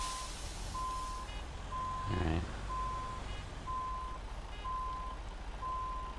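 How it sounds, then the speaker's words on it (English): A truck's reversing alarm beeps steadily in an even rhythm in the video game American Truck Simulator, moderately loud over engine rumble, with a brief burst of noise midway and a short spoken word. "What is that beeping sound?"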